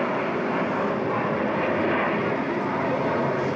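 A large airplane taking off, its engine roar a loud, continuous broadband rumble that fills the whole span without pause.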